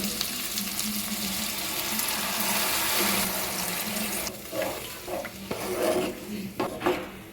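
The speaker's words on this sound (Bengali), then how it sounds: "এবার আমি উপর থেকে দিয়ে দিচ্ছি জল" Water poured from above into a pan of rui fish curry masala that has been slowly fried with spices, a steady rushing pour that gives way to bubbling, crackling sizzles and light scraping as it settles.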